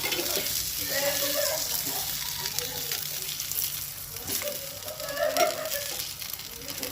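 Kalundara fish coated in semolina fries in oil in a pan after being turned to the other side. A continuous crackling sizzle swells and fades, with a faint murmuring voice in the background.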